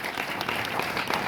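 A stand-up comedy audience breaks into brief, dense applause, a steady wash of many hands clapping at moderate distance with no voices over it.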